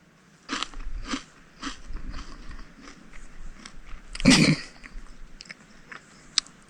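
Someone bites and chews a lump of gilsonite, a coal-like natural asphalt, producing a string of close, sharp crunches in a loose rhythm, with one louder crackling bite near the end.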